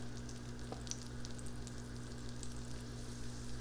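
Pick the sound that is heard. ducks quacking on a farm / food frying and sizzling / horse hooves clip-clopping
food frying and sizzling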